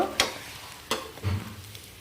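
An egg omelette cooking in a pan beside fried okra, with three separate scraping strokes of a spatula over a faint, steady sizzle, close by.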